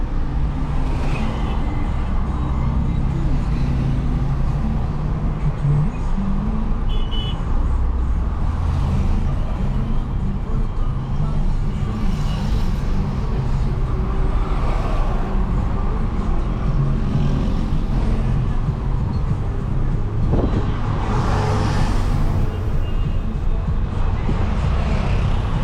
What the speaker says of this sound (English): Just drive through the traffic.